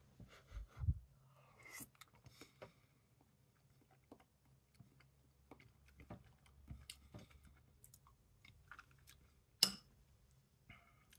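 Branston beef ravioli being eaten close up: soft, sporadic chewing clicks and wet mouth sounds with small taps and pauses, faint and intermittent.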